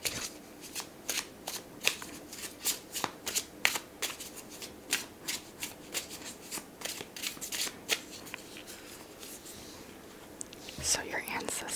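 A Guardian Angel Oracle deck is shuffled in a tarot card reading, a long run of crisp riffling card flutters and taps that are close and fairly quiet, with soft whispering underneath.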